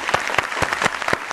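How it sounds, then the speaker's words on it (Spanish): A studio audience on a Colombian children's TV show claps for a 12-year-old contestant, a short burst of brisk applause with distinct close hand claps. "Jaime, un aplauso para él."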